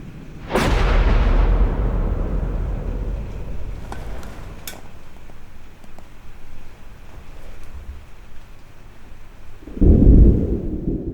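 A deep, dramatic boom rolls out and rumbles away slowly, with a second heavy rumble swelling near the end; no voices.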